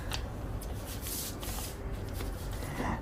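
Sheet of paper handled and folded for an origami bat plane, a dense close crinkling and rustling with brief sharper crackles, continuous throughout and fairly quiet; no voices.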